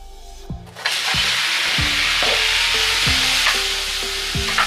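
Oil frying in a pan for mutton rice pasta, a loud close sizzle that starts abruptly and continues with repeated stirring scrapes at a fairly regular pace, no talk.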